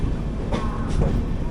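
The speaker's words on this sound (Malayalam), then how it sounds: "അതാണ് സംഘമിത്ര എക്സ്പ്രസ്" The Sanghamitra Express passing close by, a loud continuous rumble of railcars with wheel clatter rolling steadily past.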